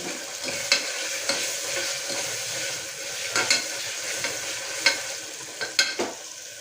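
Ginger garlic paste sizzling steadily in a hot pan for a red toor dal curry, a continuous frying hiss broken by several sharp clicks and scrapes of stirring, with no talking.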